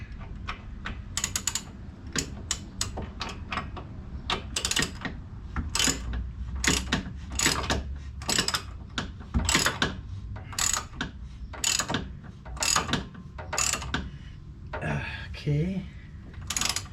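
Wrench ratcheting on a trailing arm bolt of a Porsche 911 rear suspension in a cramped space, a steady run of close, sharp clicking strokes with short pauses.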